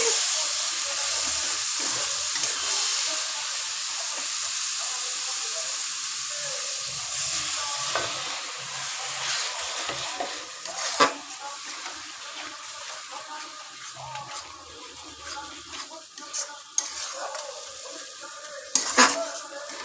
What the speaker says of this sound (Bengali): এইটা ভালো করে কষানো হবে।